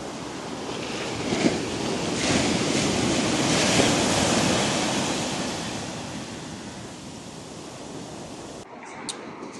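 Waves break and wash up on a beach at Alleppey in Kerala with a continuous roaring surf that swells and recedes, mixed with wind buffeting the microphone and no voices.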